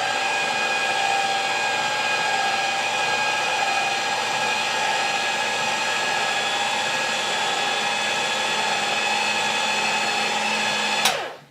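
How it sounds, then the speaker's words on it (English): A Shine XL low speed juicer runs with a steady, continuous motor whine and hum at an even level, stopping abruptly near the end. "let's go ahead and turn on the Shine XL juicer, the low speed juicer"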